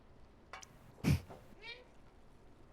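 A cat meows in the video game Stray, a few short, distinct mews spaced apart over faint background ambience, fairly close and clear.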